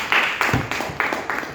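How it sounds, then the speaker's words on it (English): A small group claps for a Toastmasters club speaker, five or six sharp, evenly spaced claps sounding close and moderately loud, with no voices over them. "please help me welcome Toastmaster Manashri with a huge round of applause"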